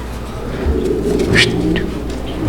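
Low pigeon cooing hums through a loud, busy background with a brief chirp, recorded close and somewhat muffled.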